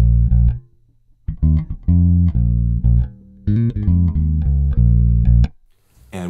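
Clean, unprocessed bass guitar tone with the overdrive switched off, a short phrase of plucked notes with brief pauses, played loud and close with no talking.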